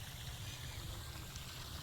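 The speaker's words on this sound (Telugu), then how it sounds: "వాటర్ సౌండ్ ఎలా వస్తుంది, చాలా బాగా వస్తుంది కదా." Water flows through village farm fields in a soft, continuous stream, a faint, steady trickling and gurgling with no voices.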